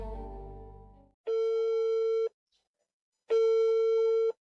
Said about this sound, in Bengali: দেখি আবার ফোন দিই তো